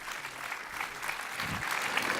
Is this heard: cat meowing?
no